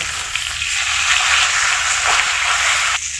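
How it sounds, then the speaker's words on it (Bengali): Koi fish (climbing perch) fry in hot oil in a pan as a knife flips them, giving a loud, steady sizzle with faint scraping touches and no talking. "ছুরির সাহায্যে ওই মাছগুলোকে উল্টিয়ে দেওয়া হচ্ছে"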